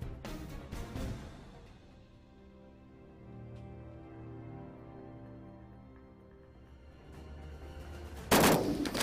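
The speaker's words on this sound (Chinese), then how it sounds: "随着两声枪响" Two loud sniper rifle shots crack out at a military sniping competition, one near the start and one near the end, each a sharp blast with a rumbling tail and quiet air between.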